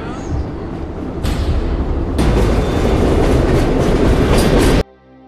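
Train running as heard from inside a carriage, a steady rumbling roar with rail noise that swells midway and stays loud before cutting off abruptly near the end.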